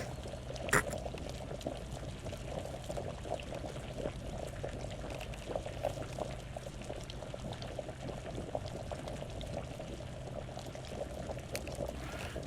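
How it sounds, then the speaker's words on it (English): Canned corn and peas cooking in a pot on a stove in the zombie survival game VEIN, a faint, steady bubbling and simmering that continues evenly throughout. "since I've put the canned corn and the canned peas in the stove, I can just click on this, and it starts cooking it for me"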